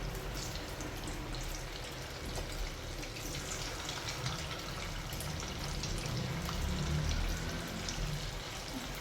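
Pieces of cabbage tikka fry in hot oil with a steady, soft crackling sizzle that holds evenly throughout, fairly quiet and without talk.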